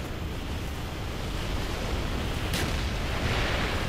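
Artillery strike in Call of Duty Black Ops on the Hangar 18 map: a loud, continuous roar of rumbling blasts that fills the whole stretch, close and heavy, with no talking.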